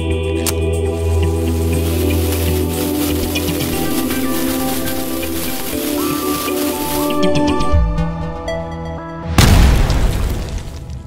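A Little Boy whistle bomb firecracker shrieks with a long, piercing whistle for several seconds, cuts out, then bursts in one loud, sharp explosion near the end.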